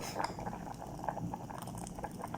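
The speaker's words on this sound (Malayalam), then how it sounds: "തിളച്ചു വരുമ്പോൾ കപ്പ ഇടുക നല്ല തിളച്ചു" Tapioca boils in a pot of water, giving a soft, close bubbling and gurgling that runs quietly throughout.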